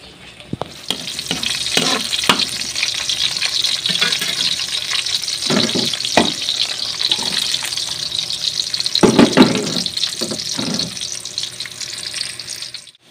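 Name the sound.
sautéing garlic and onion for chicken adobo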